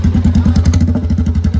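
Royal Enfield Classic 350, modified, idling with no silencer fitted: a loud, close, rapid thumping exhaust beat pulsing steadily throughout.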